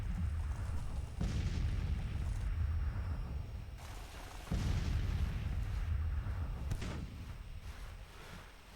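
Artillery booms echo across a Civil War video game battlefield, several heavy blasts with sharp onsets near 1.2, 4.5 and 6.8 seconds over a constant low rumble of distant cannon fire, with no voices.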